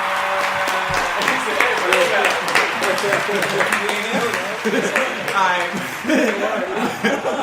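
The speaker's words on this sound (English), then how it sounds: "Everybody clap." A few people in a podcast studio clap together amid chuckles and laughter, close and lively, with voices talking throughout.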